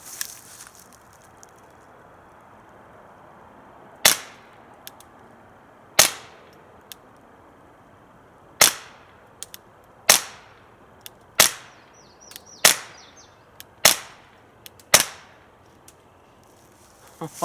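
Eight suppressed .22 LR pistol shots through a Liberty Infiniti 9mm silencer, sharp muted cracks spaced a second or two apart, each followed by a faint metallic clatter; no talking.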